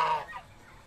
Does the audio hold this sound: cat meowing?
no